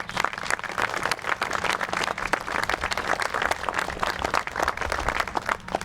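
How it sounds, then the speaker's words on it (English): Outdoor crowd applause at a 40th anniversary ceremony for the Irish hunger strikers in a Remembrance Garden in Forest Park, Springfield, Massachusetts: thick, continuous clapping at a steady level throughout. "Let's give them a big round of applause."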